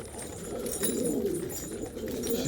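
A wounded black-winged carrier pigeon chick coos in a low, continuous murmur, close and fairly steady, with no voices over it.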